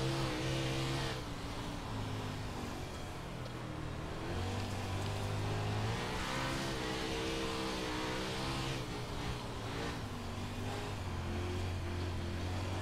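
Several 410 dirt sprint car engines race at Lernerville in iRacing, a continuous loud droning roar with harmonic whine that rises and falls as the cars accelerate and lift through the turns.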